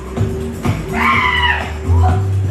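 Screams and shouts echo through the corridors of a Halloween haunted attraction, rising in a loud cluster around the middle and again near the end over a constant background hum, with some speech-like voices mixed in.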